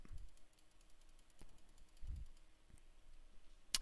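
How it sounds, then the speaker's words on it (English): Computer mouse clicks in the BeamNG track editor, a few sharp isolated clicks spaced irregularly over a quiet background, faint and close. "And now we'll click up."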